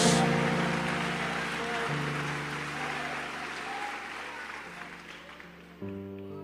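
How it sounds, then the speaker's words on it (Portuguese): A church congregation claps for the name of Jesus after a sermon: a sustained wash of applause that slowly fades, with steady musical tones held underneath and a short burst of louder sound near the end. "Só quem pode dar um brado de glória a Deus e aplausos ao nome de Jesus"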